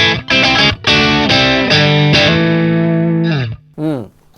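Distorted electric guitar through a Marshall JVM amp on its orange channel, loud chords struck in a few short stabs then a long sustained ring, ending with a brief slide and a closing strum.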